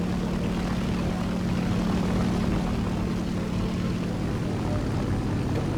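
A video game propeller aircraft engine, a Japanese plane overheating, drones steadily and loudly throughout, a constant buzzing roar with a low hum and no speech.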